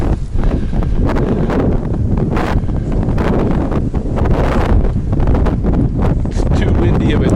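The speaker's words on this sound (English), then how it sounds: "It's too windy of a day." Strong, gusty wind buffets the microphone outdoors in a steady broadband roar, with occasional rustling swells throughout.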